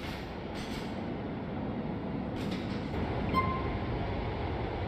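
Train rumble in the video game Grand Theft Auto 4, a steady rolling rail drone with faint wheel squeal, continuous and moderately loud.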